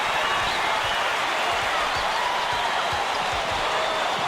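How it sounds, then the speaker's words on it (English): Arena crowd in the College Basketball 2K8 video game, a dense continuous roar of cheering fans filling the space at full loudness, with faint thumps of a bouncing basketball underneath. "This crowd is going insane."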